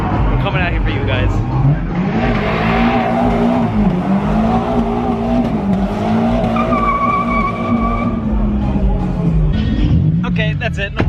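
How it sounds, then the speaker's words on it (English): Honda Civics do burnouts at a car meet, tires squealing in a long, wavering skid over a roaring engine, with crowd voices and talk mixed in throughout. "Are we really all doing Civic burnouts?"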